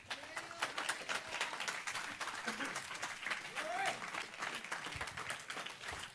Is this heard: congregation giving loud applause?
yes